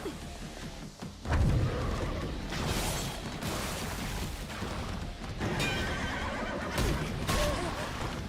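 A horse-like creature neighs loudly during a Corrupter boss fight in the video game Stellar Blade. The cry sits inside dense, continuous combat sound with heavy thuds and crashes.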